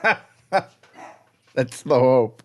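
A dog gives two sharp, loud barks close by, then one more bark a second later, with someone speaking briefly in between.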